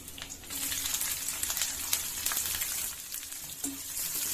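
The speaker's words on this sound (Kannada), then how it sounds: "ಈಗ ಸಾಸಿವೆ ಹಾಕೊಂಡ್ಬಿಡ್ತೀನಿ, ಜೀರಿಗೆ, ಕರಿಬೇವಿನ ಸೊಪ್ಪು, ಈರುಳ್ಳಿ ಹಾಕೊಂಡ್ಬಿಡ್ತೀನಿ." Mustard seeds, cumin, curry leaves and onion frying in hot oil, producing a bright, crackling sizzle with scattered pops and occasional stirring scrapes, close and continuous.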